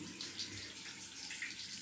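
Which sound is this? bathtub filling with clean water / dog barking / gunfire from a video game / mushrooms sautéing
bathtub filling with clean water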